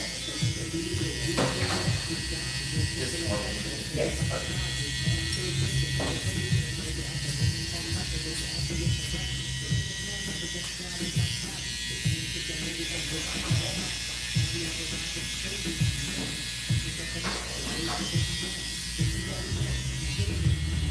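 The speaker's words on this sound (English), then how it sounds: "Keep grinding on the same spot." Continuous buzzing, rattling whir of a power tool grinding steadily on one spot, loud and close with faint mechanical clicking throughout, and a voice now and then underneath.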